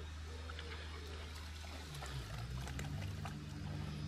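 A lovely little stream in the Troutbeck area of the Lake District, water trickling and pouring continuously and fairly softly close by, with a dog splashing in it.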